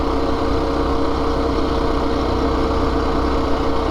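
A minibike's small engine drones steadily and loudly at close range while riding toward Harvey Station, New Brunswick, a constant buzzing tone with rough low rumble and no pauses.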